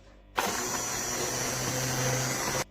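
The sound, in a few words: blender puréeing raspberries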